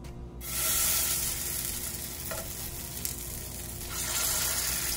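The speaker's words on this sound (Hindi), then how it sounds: "अब मैं ये शामी कबाब है इनको फ्राई कर लेती हूँ।" Cheese shami kababs fry in oil in a frying pan with a steady, dense sizzle and crackle throughout, swelling louder at moments and close to the pan.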